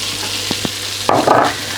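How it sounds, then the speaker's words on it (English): Chopped onion dropped into melted butter in a pot, starting a close, steady sizzle with a couple of soft knocks just before and a louder burst of frying as it hits the fat. "add your butter into the pot and just let that melt. And then I'm going to throw in my onion"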